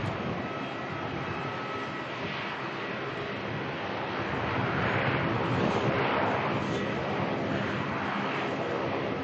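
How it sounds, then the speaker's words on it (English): A Saab propeller aircraft sits on the ground at Melbourne airport, giving off a steady, broad roar with a droning hum that swells slightly in the second half. Wind rushes across the microphone and no one speaks. "all the planes right now sound like a prop thanks to that Saab down there"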